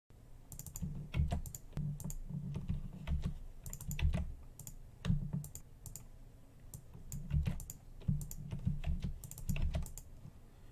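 Someone types and clicks on a computer keyboard while working in Photoshop, giving sharp key taps in quick irregular bursts separated by short pauses, close and clear with no talking.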